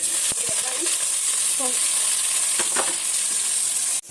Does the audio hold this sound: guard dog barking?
no